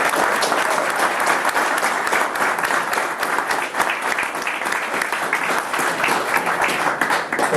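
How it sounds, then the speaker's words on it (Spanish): Seminar attendees applaud an engineer after a technical talk on non-destructive testing, a sustained, lively round of clapping filling the room at close range without speech. "un aplauso para el ingeniero"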